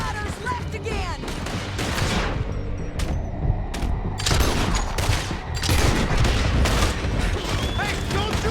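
Gunfire from the Red Dead Redemption 2 video game rattles in rapid, overlapping volleys during a canyon shootout with riders, loud and near, mixed with shouting voices and game ambience.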